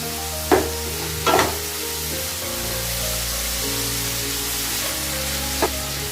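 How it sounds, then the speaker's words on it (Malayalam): Tamarind being sautéed in a pan over a medium flame while making idli, a steady loud sizzle with a few sharp scrapes and clinks of the spoon stirring against the pan. "അതുകൂടി നമുക്ക് നല്ലതുപോലെ ഒന്ന് വഴറ്റിയെടുക്കാം"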